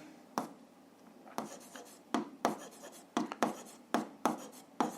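A pen scratches on paper while algebra working is written out: a series of short, sharp strokes in irregular rhythm, close and fairly quiet.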